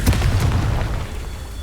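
The Confringo blasting spell in Hogwarts Legacy erupts in a loud, booming explosion with a deep rumbling low end that slowly fades.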